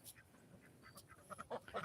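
Ducks quack faintly a few times at a distance, soft nasal calls rising toward the end over a quiet background.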